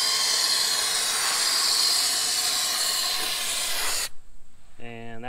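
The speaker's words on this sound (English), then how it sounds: "Now we put the hose on, we're gonna see what the spray pattern looks like." Fluid Film rust-proofing spray forced through a hose wand into a car's body cavities gives a loud, steady, close hiss for about four seconds, then cuts off sharply.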